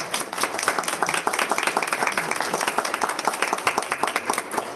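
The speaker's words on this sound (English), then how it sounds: "Stand up so we can clap for you," Audience members at a school board meeting clap for the robotics team, a dense, steady round of many hands close by that carries on for several seconds with a faint voice underneath.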